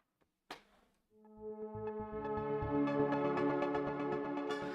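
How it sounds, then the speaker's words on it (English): A short burst of noise, then a growing, gritty synth drone with shifting, warped metallic tones that swell and churn, like robotic transforming machinery. "It's called mangled, kind of like transformer type sounds there."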